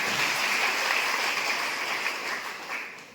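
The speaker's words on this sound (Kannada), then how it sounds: "ನಮ್ಮ ಹೆಮ್ಮೆಯ ಡೈರೆಕ್ಟರ್ ಲಕ್ಷ್ಮಣ್ ಸರ್ ಅವರಿಗೆ ಒಂದು ಜೋರಾದ ಚಪ್ಪಾಳೆ" Loud, sustained crowd applause fills a hall for director Lakshman at a taluk-level federation office-bearers' convention, a dense steady clatter of many hands that eases slightly toward the end.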